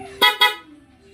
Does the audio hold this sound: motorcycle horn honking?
yes